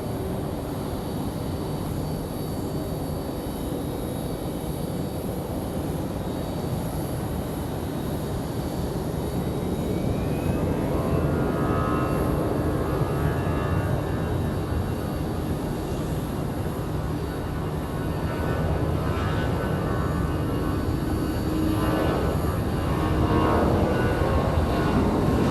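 A Jazz airliner bound for Montreal at Raleigh Durham International Airport roars steadily with a loud, broad engine rumble that builds and holds, heard from the airfield without talk.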